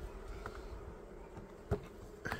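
Honeybees at an opened hive in an urban apiary hum in a soft, steady drone, with a few brief knocks and handling sounds close by.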